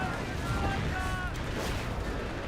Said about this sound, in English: Artillery barrage could be fake, could be real